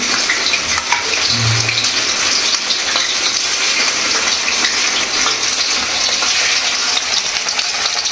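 Taro rolls fry in hot oil in a kadhai, a steady, close, loud sizzle with bubbling crackle running unbroken from start to finish, no voices over it.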